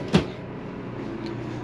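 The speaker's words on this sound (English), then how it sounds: "Pull out drawer, perfect for pans." A pull-out pan drawer in the kitchen of a 2021 Sunseeker RV makes a single short thump as it slides and stops, followed by quiet room tone.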